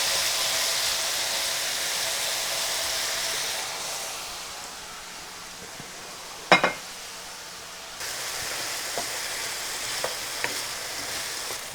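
Potatoes sauteing in a pan give a steady, hissing sizzle, broken by a few light clinks and taps of stirring.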